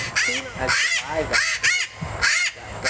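Marianas crows, a rare island species of Guam and Rota, give a series of harsh, nasal caws, about five loud calls in an uneven rhythm, close and clear with a little background noise.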